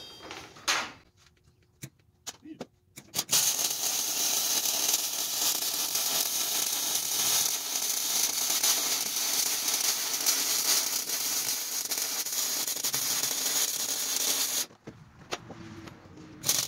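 Welding on the frame of a Fleetwood vehicle, a steady crackling buzz of the arc held for about eleven seconds, close and loud, with scattered taps and clatter before and after.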